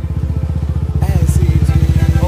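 A motorcycle carrying three riders rumbles steadily along on a Sunday ride, its engine pulsing loud and close throughout with a little background chatter.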